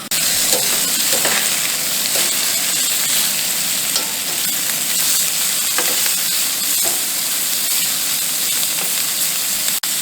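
Meat laid flat and seared in a hot pan over a camp stove, a loud, continuous close sizzle and hiss with faint spatters and small pops throughout.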